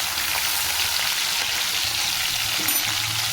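Dried shrimp fry in hot oil, making a dense, steady sizzle that crackles close and loud without a break.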